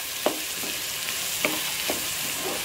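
Onions and chillies frying in a pan while preparing mutton chops, a constant hissing sizzle broken by four spaced scrapes of a utensil stirring, close up with no speech.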